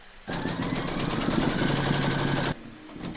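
An embroidery machine stitches a gold-thread placement outline for fabric in a hoop, a rapid mechanical whirring hum that starts abruptly, runs steadily for about two seconds, then stops, close and moderately loud.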